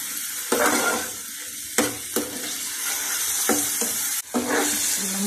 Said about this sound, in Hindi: अब मैं चिकन डाल रही हूँ। इसमें चिकन थोड़ा सा फ्राई हो जाए